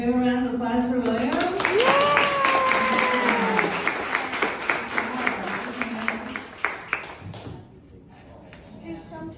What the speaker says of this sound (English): We have a round of applause for William.